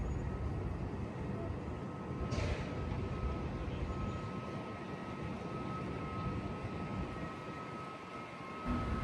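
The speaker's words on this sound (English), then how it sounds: "I can hear a plane" An airplane flies overhead near the Troon ferry terminal, a faint, steady low rumble that fills the whole stretch, heard from the deck of a ferry with no talking.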